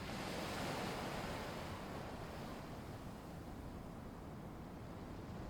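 Ocean waves wash over a lagoon in a continuous soft roar of surf, heaviest at the start and then easing to a steady wash, with no talking.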